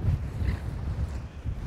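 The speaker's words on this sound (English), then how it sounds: "It's so windy behind me." Strong wind gusts buffet a microphone on a Welsh mountainside, a low rumbling roar that rises and falls, close and fairly quiet.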